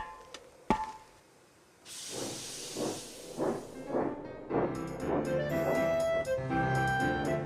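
Thomas the Tank Engine, a toy-style steam locomotive, lets out a sharp hiss of steam and then chuffs along in a steady run of puffs. Whistle-like tones and music join in near the end.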